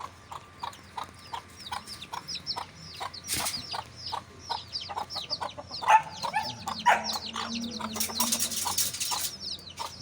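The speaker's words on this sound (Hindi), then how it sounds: "वो छोटे छोटे जो ये मुर्गी के बच्चे हैं वो भी बाहर निकल आए हैं" Young chicks about one and a half months old cheep and cluck outdoors, a steady run of close, high peeping calls with some louder flurries of clucking toward the end.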